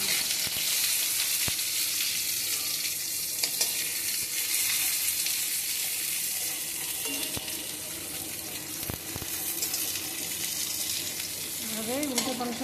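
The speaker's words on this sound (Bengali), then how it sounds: "আমি ভেজে নেব এবারে।" Eggplant pieces fry in hot oil with a steady, loud sizzle throughout, while occasional scrapes and clinks mark them being stirred and turned in the pan; there is no speech.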